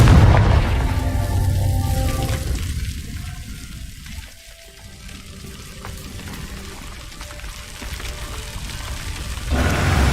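Confringo fire spell blasts in Hogwarts Legacy combat, opening with a loud booming burst, then a long rushing, crackling wash that fades before another heavy blast at the end.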